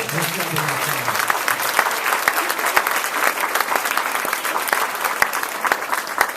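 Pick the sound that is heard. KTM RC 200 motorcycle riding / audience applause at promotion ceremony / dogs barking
audience applause at promotion ceremony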